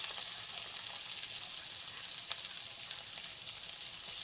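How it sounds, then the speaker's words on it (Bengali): Chopped onion and garlic frying lightly in oil for momo filling, a steady close hiss of sizzling with faint stirring scrapes, no voices. "রসুন কুচি সব দিয়ে দিয়েছি। এবার এটা হালকা করে ভেজে নেব।"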